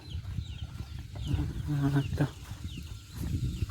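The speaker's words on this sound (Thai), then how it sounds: "ไก่กาเขาก็เต็มอยู่" Chickens cluck in a rural village yard, a few short, close clucking calls over a bed of outdoor background noise, with faint voices.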